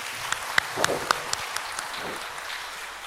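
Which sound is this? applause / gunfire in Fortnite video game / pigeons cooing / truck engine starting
applause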